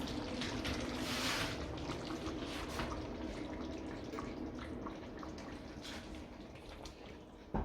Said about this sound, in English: So this is my coconut milk. I put in my coconut milk.